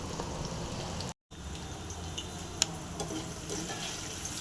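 Battered cauliflower 65 fries in hot oil, a steady, close crackling sizzle with scattered pops that carries on without a break, apart from one very brief dropout.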